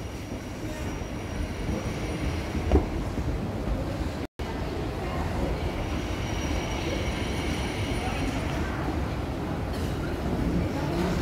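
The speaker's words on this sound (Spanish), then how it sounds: "Esta es la parada principal de Zurich, donde van también los trenes a Alemania, también van a Italia, Austria," Trains at Zurich's main railway station give a steady, fairly loud rumble and hiss across a busy concourse, with voices talking underneath.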